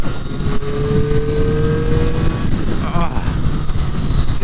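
A 2023 Triumph Street Triple 765 RS naked sport motorcycle is ridden on the road, its engine droning loud and close with a rising note and rushing wind, and a rider's voice comes through.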